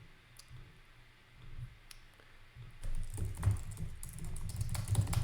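Mouse clicks and keyboard typing while inserting a chart in an Excel Online spreadsheet, quiet taps at first, then a denser, louder run of clicking and key presses in the second half.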